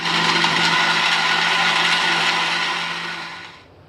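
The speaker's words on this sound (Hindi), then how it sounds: "अब मैं इसमें चिल वाटर डाल के दोबारा से इसको ग्राइंड करूँगी।" A kitchen blender grinds a jamun lassi mixture with chilled water and ice, giving a loud, steady whirring roar that holds evenly before winding down and stopping near the end.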